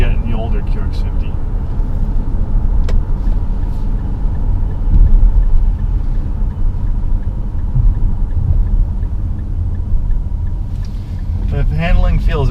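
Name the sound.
2019 Infiniti QX50 four-cylinder variable compression engine driving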